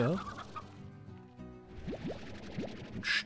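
Rock chickens in the video game Slime Rancher cluck in a short run of rising, chirpy calls amid layered game ambience, with a brighter burst near the end.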